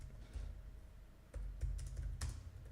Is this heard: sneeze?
no